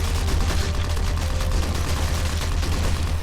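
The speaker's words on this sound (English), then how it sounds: "the Gatling gun will shoot an explosive round for every 10th shot" Rapid, continuous Gatling gun fire with periodic explosive rounds in a sci-fi top-down shooter video game, a dense, even stream of shots from start to finish.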